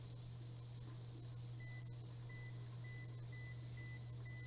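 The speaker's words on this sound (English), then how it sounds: "let's set a timer." A timer is set on a Wolf kitchen range, giving a series of short, faint electronic beeps at even intervals over a steady low hum.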